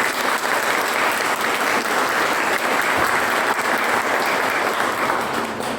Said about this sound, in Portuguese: Você poderia aplaudir o Senhor?